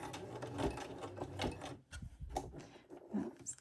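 A sewing machine stitching coiled sash cord into a rope bowl whirs in short bursts with clear start-and-stop pauses, close and moderately quiet.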